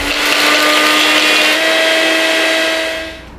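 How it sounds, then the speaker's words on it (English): Magic Bullet blender grinding whole allspice berries, a loud, high whining motor hum with gritty rattle, running steadily for about three seconds before winding down. "I'm going to grind those up here in my magic bullet."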